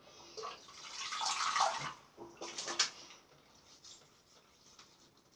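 Water is scooped and splashed onto a face during a shave, several soft splashes and drips rising and falling in bursts, fairly quiet and close, with no talking.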